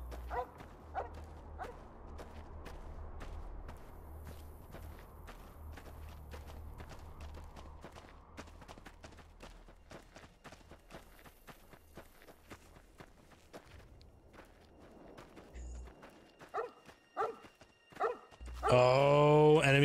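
Dog barking and running in the Fallout video game, with steady footstep-like patter across the clip, a few sharp bark-like bursts, and a louder burst of activity at the end.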